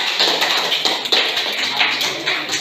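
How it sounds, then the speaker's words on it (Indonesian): Students in a classroom applaud, a dense burst of many hands clapping close by, continuous and lively for a couple of seconds. "Sebelum kita lanjut, kita kasih aplaus dulu."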